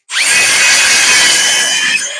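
A small 18-volt cordless saw rips through hard maple, a loud, close, sustained high-pitched whine that starts abruptly and holds steady for about two seconds with no talk.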